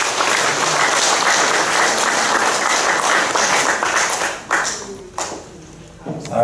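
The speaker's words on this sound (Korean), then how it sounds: "우리 크게 감사하는 마음으로 박수 칩니다" A church congregation at a Wednesday worship service applauds loudly and steadily, the dense clapping thinning out toward the end.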